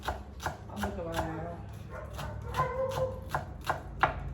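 A puppy yips and barks in short repeated bursts, several sharp calls spread through the moment with some background clatter and faint household noise.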